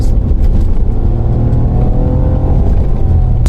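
A 1999 Ford Contour SVT engine revs loud and close with a sustained, rising drone as the intake opens up, steady and alone with no voices.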